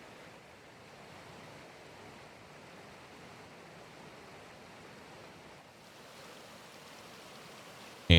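River flowing through Cave River Valley near Campbellsburg, Indiana, a steady broadband rushing of water, even and continuous with no voices, ending in a sudden sharp thump.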